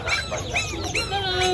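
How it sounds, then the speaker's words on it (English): Chickens and ducks at an Indonesian animal market make overlapping clucks and squawks, loud and close, against a dense crowded background din. "Duck and chicken."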